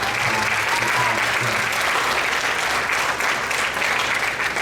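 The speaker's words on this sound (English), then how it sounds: "So round of applause for you out there." A sixth grade band concert audience applauds, dense steady clapping that is loud and continuous from start to finish.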